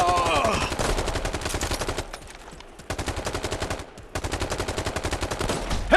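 Rapid, relentless gunfire in an online shooter video game, where shotgun use is stated: loud repeated bursts drive on almost nonstop, with two brief lulls partway through.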